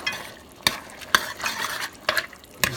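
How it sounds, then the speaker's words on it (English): A spoon stirs stuffed pepper filling of tomatoes, diced onions and mushrooms in a pan, giving a gentle sizzle broken by four or five distinct scraping clacks against the metal at uneven intervals, close and without speech. "Just stirring it around."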